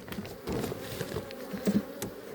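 Honey bees buzz around a garden beehive in an apiary, a steady close swarm drone with individual bees flaring louder as they pass near.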